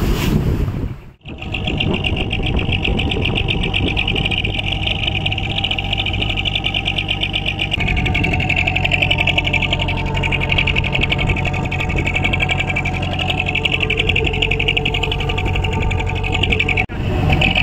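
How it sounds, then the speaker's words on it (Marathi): Boat engine on the sea, a loud, steady droning hum with a rhythmic mechanical chatter running throughout, briefly dipping near the start before resuming at constant pitch. "हे बघा, ही बोट फिरून आलेली आहे, घरी चाललेली आहे"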